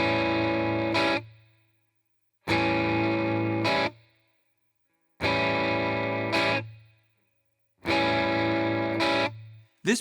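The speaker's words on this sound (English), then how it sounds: "The last strumming pattern we'll try is a little more challenging." Electric guitar plays a blues strumming pattern with a shuffle feel in a twelve-bar blues in A, four repeated bursts of choppy strummed chords with pauses between, close and unaccompanied.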